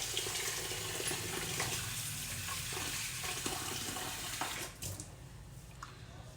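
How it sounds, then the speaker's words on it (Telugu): Water poured into a vessel while washing and sifting grain to separate out stones, a steady faint splashing flow that tapers off near the end. "కొంచెం వాటర్ తగ్గినాయి, వాటర్ తీసుకుంటాను."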